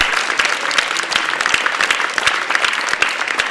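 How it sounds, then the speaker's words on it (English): Sustained applause from a large audience at an awards event, dense crackling clapping filling the whole stretch at steady loudness with no voices on top. "a big round of applause to them"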